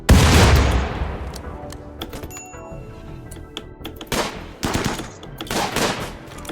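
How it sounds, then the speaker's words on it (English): Gunfire in a RimWorld battle: a heavy opening blast followed by scattered sharp shots and short bursts at irregular intervals, fairly loud and close, with no speech over it. "Oh, headshot on Des."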